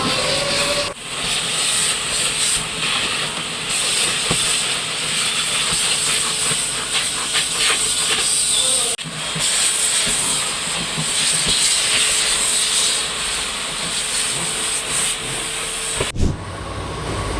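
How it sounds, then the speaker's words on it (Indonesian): A vacuum cleaner works over the floor and carpet inside a Daihatsu Ayla during interior cleaning, giving a steady, close, loud hissing roar with brief dips and shifts in pitch as the nozzle moves. "Jadi kita vakum untuk kotoran dan juga sampah ya di lantai dan juga karpet mobilnya."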